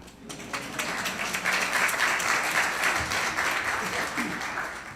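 A courtroom crowd at a judge's investiture claps for a Supreme Court justice, a moderate, steady patter of applause with voices murmuring underneath.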